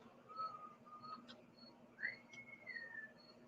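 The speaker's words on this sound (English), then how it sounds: "I hear a whistle." A whistled tune from someone nearby in a home during a live stream, a few short notes followed by a longer sliding note, fairly faint over low background hum.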